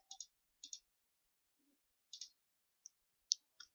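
Sharp computer mouse clicks while saving items in a software application: a few quick paired clicks, then isolated single clicks in a quiet room.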